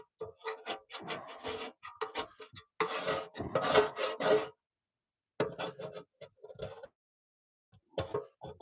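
Sandpaper rubbed by hand over a boat hull to strip glue loosened with lighter fluid, a close, rasping scrub repeated in bursts with short pauses between strokes.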